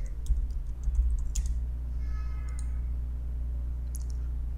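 Fingers type a watch list name on a computer keyboard, a quick cluster of light key clicks early on and a few scattered taps later, over a steady low hum.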